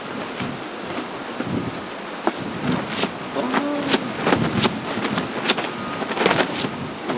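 Strong gusty wind blowing across a campsite with a one-touch tent, steady broadband rushing with rustling and flapping bursts, moderately loud and continuous, no talking.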